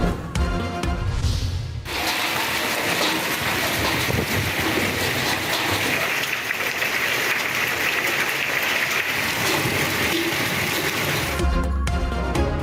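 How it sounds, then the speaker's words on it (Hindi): Stormy rain with hail pounding down in Islamabad, a loud, dense, roaring wash of falling water and ice that fills about ten seconds between brief stretches of other sound at either end. "इस्लामाबाद में झालाबारी के साथ तूफानी बारिश।"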